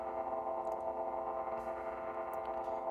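A synthesizer patch built from scratch on a sine-wave style pattern, with an ADSR volume envelope and a modulated filter cutoff, sustains as a steady, dense harmonic tone for about three seconds, fairly quiet and alone.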